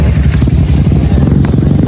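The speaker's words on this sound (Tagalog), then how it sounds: "So, ayun yung motor ko." A motorcycle engine idles nearby at dusk on Siquijor, a steady low chugging rumble with a fast rhythmic pulse that stays loud throughout the short stretch.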